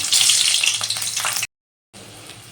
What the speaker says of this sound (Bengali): কালো জিরে কাঁচা লঙ্কাটা একটু ভাজা ভাজা হয়ে গেছে